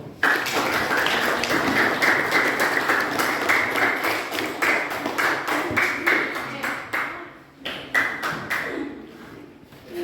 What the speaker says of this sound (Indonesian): Silakan tepuk tangan kepada kelompok 1.